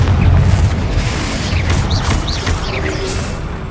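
A Confringo blasting curse explosion in the Hogwarts Legacy video game: a loud booming blast with crackling magical whooshes and zips, all without any talk.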